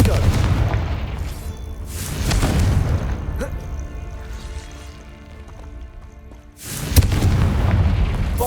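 A Confringo fire spell explodes in Hogwarts Legacy gameplay, with booming blasts at the start, around two seconds and near seven seconds over a rumbling, busy game soundscape.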